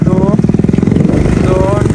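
A motorcycle engine runs nearby with a steady, rapid pulsing throb. People talk loudly over it.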